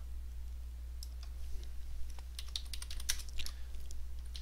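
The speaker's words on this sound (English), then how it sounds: "I guess I better type it" Fingers type on a computer keyboard with quick, clustered key clicks over a steady low electrical hum, the tapping growing busier toward the end.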